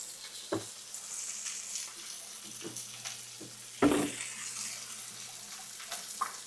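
Cream pasta sauce simmering in a pan over low heat gives a soft, steady sizzle and bubbling hiss, with a few louder clinks or stirring knocks scattered through.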